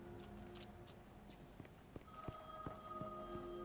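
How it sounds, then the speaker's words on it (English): A telephone rings in the video game The Medium, a steady electronic tone that starts partway through, alongside irregular footsteps thudding underneath. "let's go answer that phone call."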